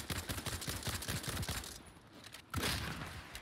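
Rapid single shots from an enemy player's SMG in the video game World War 3 crack out in a dense run, then stop briefly before a loud burst resumes near the end.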